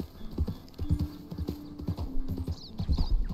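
Horses' hooves clip-clopping in the video game Red Dead Redemption 2: a busy, uneven patter of hoofbeats close by, with faint snorts and a brief whinny-like tone mixed in.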